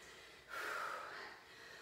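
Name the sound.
panting after kettlebell exercise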